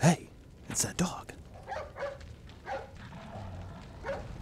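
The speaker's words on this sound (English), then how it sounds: "Hey, it's that dog." A dog barks in the video game Resident Evil 4, a few short yips and barks spread across the moment, mixed with someone talking.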